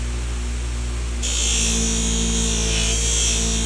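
A green compound buffing wheel is working on a Case canoe pocket knife, giving a steady motor hum that rises into a bright, loud whine as the blade is pressed against it, close by with no talk.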